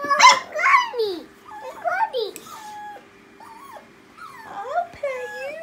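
A five-week-old puppy whimpers and whines in high, wavering cries, with short yelps and squeaks coming in uneven bursts close by.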